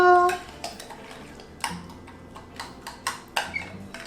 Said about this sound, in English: I'm just gonna go ahead and mix this with a spoon.